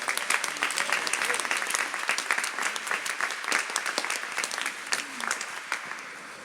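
Audience applause in a French Catholic radio station gathering, a room full of people clapping steadily and densely for several seconds, moderately near, with faint voices mixed underneath.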